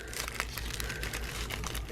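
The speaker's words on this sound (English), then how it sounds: "I am sticking it in this wine bottle type of stocking deal." Soft crinkling and rustling as an item with a holographic rosette on top is pushed into a fabric wine-bottle stocking, steady and close for a couple of seconds with no talking.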